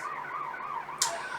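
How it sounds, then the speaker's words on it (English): A wailing emergency siren sweeps up and down in pitch, distant and muffled as if heard through an open window. "Apologies if you can hear the little siren going outside."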